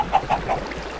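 Chickens in a henhouse on an egg farm, three short nasal honking calls in quick succession, fairly close, then fading into quiet background.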